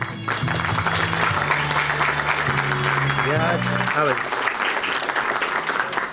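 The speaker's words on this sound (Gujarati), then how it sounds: "સર્વે તાળીઓના ગડગડાટ સાથે મહેમાનશ્રીઓના સ્વાગતને વધાવી દઈશું." An audience at a civic ceremony in Bhavnagar applauds steadily to welcome guests, the clapping running throughout while a voice speaks and a low tonal sound plays underneath.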